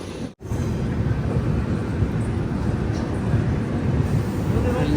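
Train halted at platform 2 of a busy Indian station on the Kerala Express route, a steady low rumble of idling rail cars and station bustle filling the scene, with a short gap near the start.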